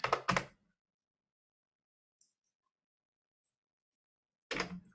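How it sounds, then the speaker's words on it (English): A few quiet keystrokes on a computer keyboard: a quick pair of taps, then a long silence, then one more short burst of clicks. "I'm sorry, I was typing."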